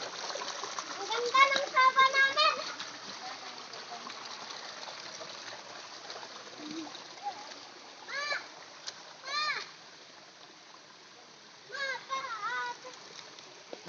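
Water splashes and sloshes in bursts as someone wades through a shallow creek, with a voice and other voices chattering over the splashing.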